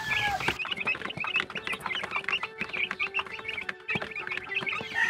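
A flock of native chickens around 90 days old cluck and chirp on a farm, many birds calling over one another in dense, close, overlapping bursts with no talk.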